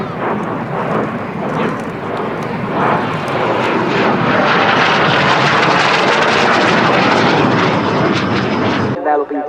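Fiat G.91 single-engine jet flying past at an airshow at RAF Fairford, a loud rushing roar swelling and holding for several seconds before cutting off abruptly, with voices in the background.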